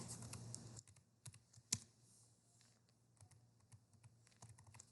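Keys on a computer keyboard are typed while working in MS Word, producing sparse, quiet clicks spread irregularly with a single sharper tap, with no talking.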